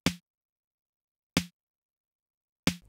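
Snare drum processed with an equalizer: three isolated, sharp hits spaced over a second apart, each short and dry with a quick decay, heard alone in silence.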